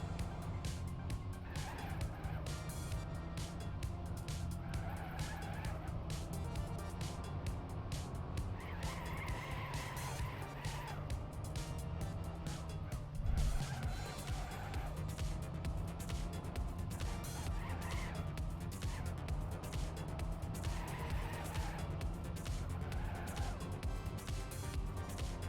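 Race cars in an endurance racing video game roar steadily with engine drone and intermittent tire squeal and skidding, a dense continuous mechanical wash throughout.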